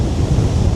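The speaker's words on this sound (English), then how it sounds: "look how there's sort of like a gentle tapering out wave coming onto the edge of the water" Gentle waves tapering onto the water's edge on a blustery day, a loud continuous rush of surf heavily mixed with wind buffeting the microphone.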